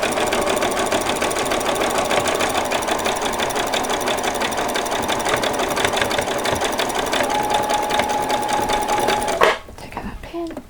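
A sewing machine runs steadily, back stitching a small doll sock, with a continuous fast buzzing whir that stops abruptly near the end.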